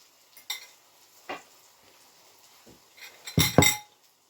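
A few light metallic clinks, then a louder clatter as a lid is set down on a frying pan over eggs poured onto zucchini; faint frying underneath.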